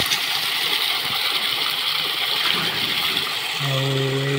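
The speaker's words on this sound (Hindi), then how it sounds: "केते स्पीड रे पानी चलती" Water gushing steadily from a pipe in a village, a loud, constant broadband rush that fills the whole clip, with a low humming tone joining near the end.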